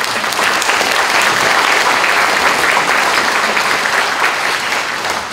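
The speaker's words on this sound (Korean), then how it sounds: "같이 박수로 한번 하겠습니다." Large crowd applause at a Korean War anniversary ceremony in Busan, loud and sustained, a thick continuous roar of clapping that barely rises or falls over several seconds.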